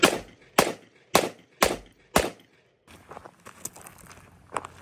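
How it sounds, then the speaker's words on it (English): Five sharp pistol shots ring out at a shooting range at steady half-second intervals, each a loud crack with a short echoing tail, followed by quieter clinks and handling noises. "we're gonna go ahead and put another 6 rounds down range"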